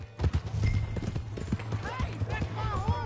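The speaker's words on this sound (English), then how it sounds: "Hey, that's my horse!" Horse hooves clip-clop in the video game Red Dead Redemption 2, a quick steady trot running under loud character dialogue and background game sound.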